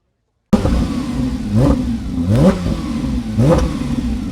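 A brand-new Porsche 992.2 GT3 fitted with a JCR exhaust blips its engine three times in quick succession, each rev rising sharply then dropping back to a loud, close idle.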